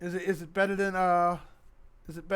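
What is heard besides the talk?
No distinct noise like a dog, phone or traffic.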